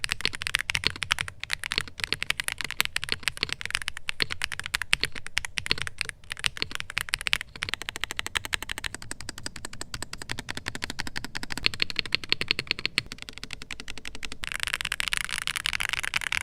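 Rapid, continuous typing on a Redragon Antonium K728 Pro mechanical keyboard with linear switches and a PC plate, crisp clacky keystrokes close up in quick irregular bursts, with no voices.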